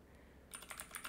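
Rapid typing on a computer keyboard, a quick close run of crisp key clicks that starts after a brief silence.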